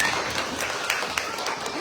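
An audience at an oath-taking and Christmas in July event claps to welcome a guest mayor; steady, fairly close applause with some sharper individual claps over a low crowd murmur.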